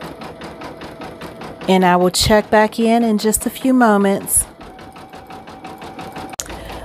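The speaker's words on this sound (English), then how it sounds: "it is now doing the satin stitch for the outer border" An embroidery machine stitching a satin-stitch outer border on an appliqué sweatshirt, a rapid steady mechanical chatter close by, continuing under a woman's speech in the middle.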